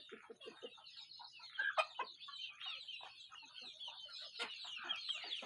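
Free-range village chickens cluck and chatter in a busy, overlapping flock, with short sharp calls and occasional louder squawks, fairly faint and distant throughout.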